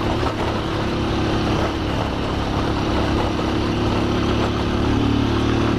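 Motorcycle fitted with a WGK belt kit ridden along a dirt trail near Atibaia, its engine droning steadily and loudly up close throughout with a rough, continuous rumble and no pauses.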